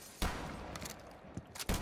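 Shots from a scoped sniper rifle in a tactical shooter game: two or three sharp cracks over a low, noisy background, the last one loud and close.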